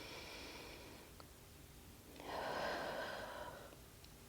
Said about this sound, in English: And take a couple breaths here.